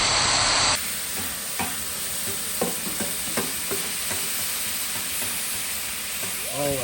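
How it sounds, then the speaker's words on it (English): Fried apples sizzle in a hot pan with a continuous close hiss, punctuated by several light clinks and scrapes of a utensil. Brief voices can be heard near the end. "drop the fried apples on this side right here. Slowly, carefully."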